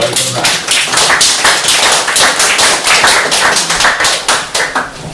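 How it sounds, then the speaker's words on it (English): Audience at a poetry reading applauding a poet being introduced, a steady burst of many hands clapping close by that continues throughout, loud and unbroken. "Give a round of applause, everyone."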